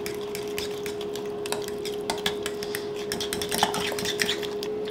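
A fork clinks and scrapes against a bowl, whisking cream with two eggs and 50 g of sugar in rapid, irregular taps over a steady background hum.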